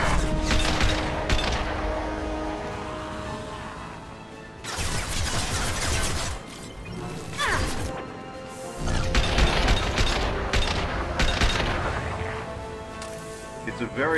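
Rifle fire from a Mass Effect 2 soldier loadout cracks out in loud, broadband bursts and impacts amid game effects, with someone talking over the action.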